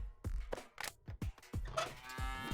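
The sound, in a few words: cow mooing in a video game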